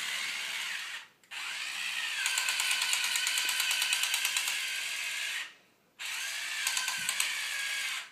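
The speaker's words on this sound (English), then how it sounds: "Smart to use your drill on that." A power drill whirs steadily in two long bursts separated by a brief pause, with a faint clicking ratchet texture throughout.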